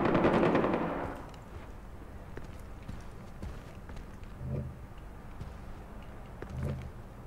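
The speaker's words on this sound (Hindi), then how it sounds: "साथ ही गोलियाँ चलने लग गई" Automatic gunfire in the video game Far Cry 4: a loud, dense burst of shots at the start, then fainter scattered shots and a couple of dull distant thumps, with no voices.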